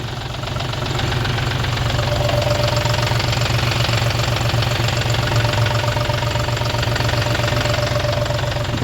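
A 2025 John Deere 5050 D 4WD tractor engine idles steadily and close by, its low diesel rumble knocking in a continuous, even beat. Nobody speaks over it.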